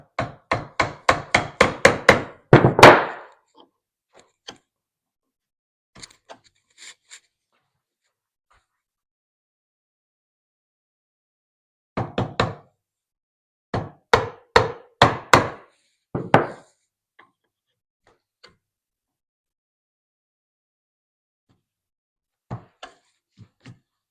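A hammer strikes a 20mm chisel to square the corners of a routed mortise: a quick rapid burst of sharp knocks, then scattered single taps and a second cluster of blows, close and dry with silence between.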